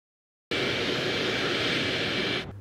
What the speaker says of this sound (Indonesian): terbang menggunakan jet pribadi milik Lake menuju Zurich